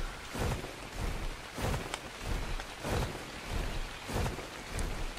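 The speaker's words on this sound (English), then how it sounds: "Maybe we'll see if the rain will stop." Steady rain falls in the video game ARK: Survival Evolved, a soft hiss with gentle rhythmic swells of rumble, faint and continuous, with no talking.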